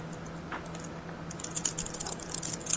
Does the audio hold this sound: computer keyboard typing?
yes